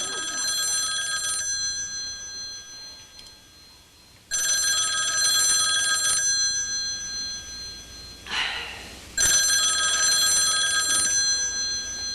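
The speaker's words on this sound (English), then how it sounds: "I hear the phone ring." An old-style telephone bell rings in three long bursts separated by pauses, loud and close, with a brief rustle before the last ring.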